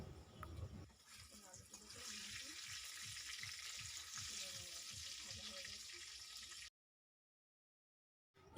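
Potato pieces fry in a pan of oil with a steady, soft sizzle that fades out abruptly, with low background clatter throughout.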